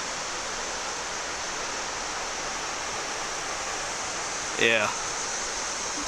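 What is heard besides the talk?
creek water flowing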